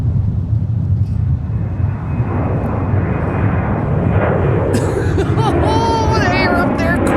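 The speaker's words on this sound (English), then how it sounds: "we have a very light departure from Sun Country, 9200 to Birmingham" A Sun Country jet, flight 9200 to Birmingham, takes off lightly loaded from Minneapolis–St. Paul airport. A loud, steady engine roar fills the whole stretch, with faint voices and some high chirps near the end.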